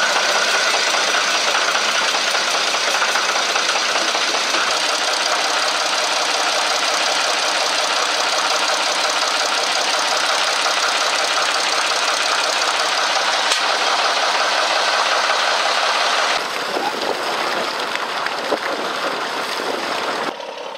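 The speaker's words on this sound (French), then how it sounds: "Maintenant, on envoie la bouteille d'air. Un peu d'accélération." A large engine started with a compressed air bottle runs with a steady, loud knocking rumble, then revs up slightly as it is accelerated, with a brief change in tone near the end.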